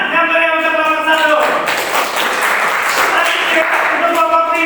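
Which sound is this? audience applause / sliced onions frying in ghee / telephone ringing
audience applause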